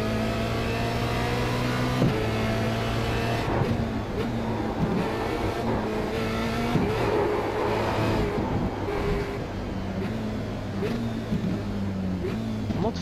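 A Formula Renault 2.0 race car engine in the iRacing sim around the Montreal Circuit Gilles Villeneuve, droning loudly and steadily, its pitch climbing and dropping through several gear changes, with no voices.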